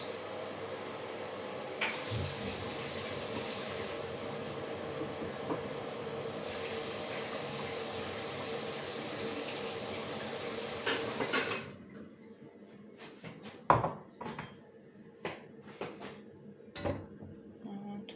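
A tap runs steadily into a sink for about twelve seconds as water is drawn for making a sweet drink, then shuts off, leaving scattered clinks and knocks of dishes close by.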